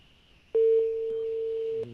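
After a disconnected phone call, a single steady electronic telephone tone sounds clearly for just over a second, starting abruptly and cutting off.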